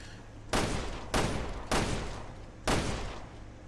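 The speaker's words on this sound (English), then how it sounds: "Kid's gonna go deaf being that close to all that gunfire." Gunfire in the video game Resident Evil Revelations 2: four loud, sharp bursts with decaying tails, spaced unevenly about half a second to a second apart, over a low background hum.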